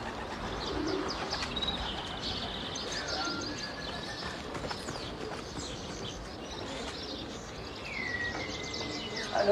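Racing pigeons at a French loft in 1990, soft cooing and scattered bird calls against a quiet outdoor backdrop, with faint background noise and occasional distant sounds.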